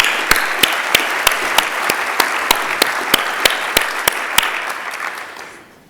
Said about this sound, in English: Can we give them another round of applause for such a good performance?